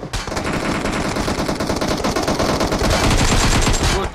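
Dense, continuous automatic gunfire in a video game shooter, rapid bursts running the whole way through at loud, close range with no pause.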